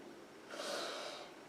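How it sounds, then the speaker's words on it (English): A single deep breath is drawn in during a meditation, a soft, airy inhale swelling for about a second, close and quiet with no talk. "deep breath in"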